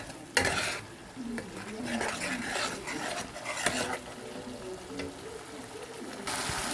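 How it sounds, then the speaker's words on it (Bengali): Cashew and tomato paste frying in oil while being stirred, a steady close sizzle with scraping spoon strokes and occasional clinks against the pan, continuous throughout. "এর মধ্যে চলে যাবে এখন কাজু আর টমেটো পেস্টটা দিয়ে দিয়েছি। এখন আমি এটাকে তেল না ছাড়া অবধি একটু ভেজে নেব।"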